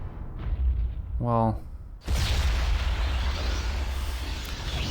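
The Meteor Storm spell in Planescape: Torment lands with heavy booming blasts, first a rumbling impact and then a sustained roar of explosions, loud and close, with someone speaking briefly over the start.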